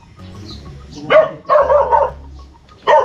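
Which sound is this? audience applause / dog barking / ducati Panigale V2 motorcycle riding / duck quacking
dog barking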